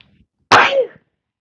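A single short sneeze indoors, a sudden loud burst lasting about half a second, then silence.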